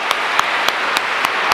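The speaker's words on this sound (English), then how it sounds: "Give you applause." Steady congregation applause inside a church after a First Holy Communion Mass, dense even clapping filling the room with a few louder individual claps punctuating it.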